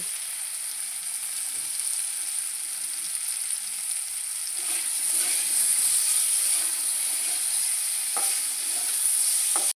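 Potatoes frying in a pan with salt and turmeric, a steady close sizzle with a bright hiss and occasional stirring scrapes and clinks, growing slightly louder toward the end.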